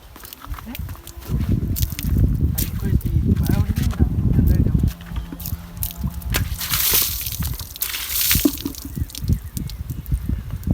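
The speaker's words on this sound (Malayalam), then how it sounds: "ഇപ്പോൾ ചെക്കന്മാരിതാ വെള്ളം എടുക്കുന്നിട്ടാ ബക്കറ്റിൽ" Water sloshes and splashes in a bucket as boys fetch it, a loud, continuous churning with drips and knocks, with voices nearby.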